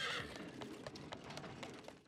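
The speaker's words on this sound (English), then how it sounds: "Look, expensive carriage, beautiful horses." Horses neigh and stamp near a carriage in a Sherlock Holmes radio drama effect. A loud whinny opens the scene, then hooves and harness clatter steadily beneath it.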